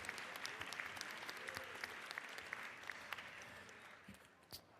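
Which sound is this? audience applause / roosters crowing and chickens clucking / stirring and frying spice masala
audience applause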